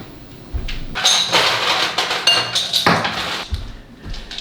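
Ice cubes clatter and clink against plastic freezer containers in a home kitchen, a run of close, bright knocks and rattles with brief pauses between bursts.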